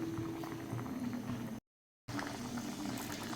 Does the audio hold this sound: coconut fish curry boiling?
yes